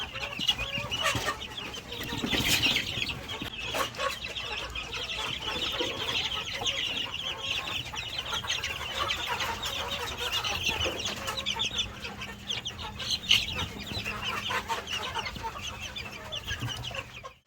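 White Leghorn chickens in a farm pen cluck and chatter continuously, with a few louder squawks standing out from the steady flock noise and no voices present.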